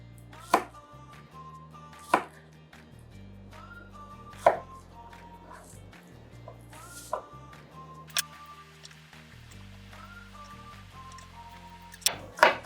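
A knife roughly slices shallot cloves on a cutting board, with a handful of sharp, isolated knocks spaced a few seconds apart over quiet background music.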